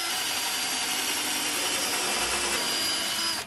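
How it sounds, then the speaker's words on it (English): A power drill spins steadily and loudly, pre-drilling a hole through old farmhouse door wood in one continuous whir, with no voices. "I always like to pre-drill my holes"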